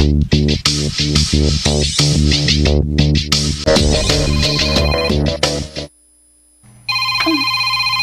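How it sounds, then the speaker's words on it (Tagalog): A telephone rings in a radio drama scene, beginning with a loud, busy stretch of music-like tones that breaks off into a short silence before a bright, repeating ring returns. "Tawagan ko si Maita."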